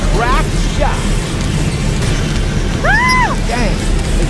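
A cannon fires in the point-and-click adventure game Deponia, a few loud booming blasts with whistling, sweeping tones over a steady rumbling game background.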